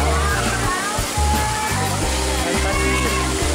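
Splashing and rushing water at a waterboom water park with a sandy artificial beach and slides, a steady loud wash of falling water with a pulsing low rumble throughout.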